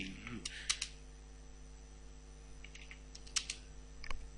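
Typing on a computer keyboard while working in a spreadsheet, a few scattered, faint key clicks over a steady low electrical hum.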